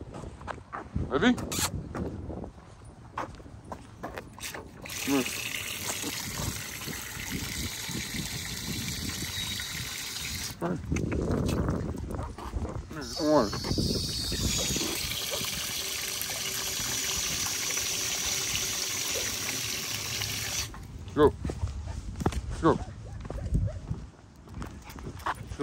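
Water gushes out for a dog at an off-leash dog park in stretches of steady hissing pour lasting several seconds each, with people talking and calling to the dog in between.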